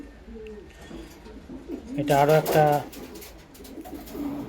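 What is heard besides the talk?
Giribaz pigeons cooing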